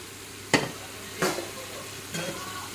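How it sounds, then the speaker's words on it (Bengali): Cumin and turmeric powder spice mix frying in a pan, a low sizzle beneath three separate scraping strokes of a spoon, each sharp at first and then fading. "এখন দেবো আমি জিরে গুঁড়ো এখন ভালো করে ভেজে নেব মশলাটাকে"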